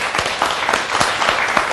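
An audience applauding together, a dense steady patter of many hands clapping at fairly close range.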